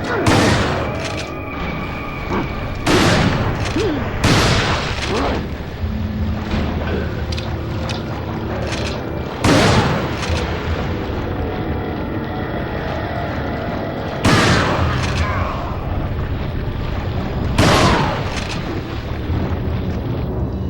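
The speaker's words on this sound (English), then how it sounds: "I'm finna turn to the shotgun. Because the shotgun has firepower as well as knockback." Shotgun blasts at enemies in Resident Evil 4, several loud, sharp booms spaced irregularly, a few seconds apart, over a continuous game soundscape.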